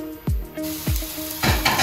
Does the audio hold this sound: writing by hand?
no